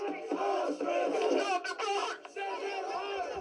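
An anti-migrant protest crowd outside a former army barracks in a small Sussex town chants and shouts together, a dense continuous roar of raised voices with brief dips.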